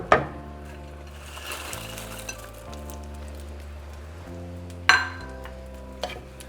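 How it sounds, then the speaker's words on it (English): Chicharrón being stirred into salsa in a pan for steamed street tacos, a soft scraping, sizzling stir with a couple of sharp utensil clinks against the pan over a steady background tone. "just mix everything together"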